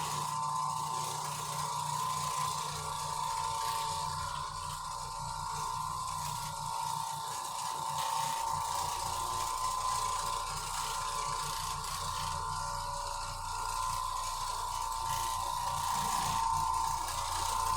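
An Oreck Orbiter floor machine scrubs a small area rug soaked with urine, giving a steady mechanical whir with a ratcheting, gear-like hum that holds at constant loudness, close by, with no talk.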